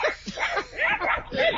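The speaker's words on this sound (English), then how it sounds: "Please come over here and get some of these damn dogs." Several dogs, including a Pit Bull and Cocker Spaniel mix, bark, yip and whimper close by in a quick, overlapping burst.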